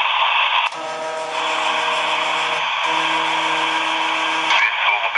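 A GRC 215 military radio's pre-post selector retunes, giving a hissing static noise with droning tones that shift partway through, steady and moderately loud.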